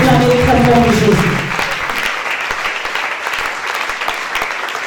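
A church congregation bursts into applause as a voice finishes speaking over the start, then dense steady clapping carries on alone, loud and close.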